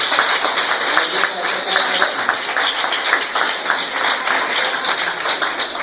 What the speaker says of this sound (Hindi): आइए हम सब जोरदार तालियां बजाएं।